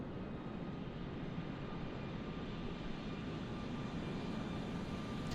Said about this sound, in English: you can hear that reverse thrust, can't you?